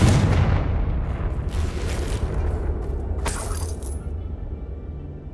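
A Confringo fire spell from Hogwarts Legacy detonates with a booming burst, then a crackling blast tail that fades to near silence.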